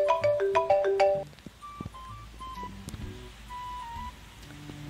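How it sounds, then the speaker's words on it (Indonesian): A phone plays a bright electronic ringing melody for about a second while an outgoing call connects, then fainter scattered beeps and soft clicks follow at lower volume. "Aku coba telepon Pak RT deh"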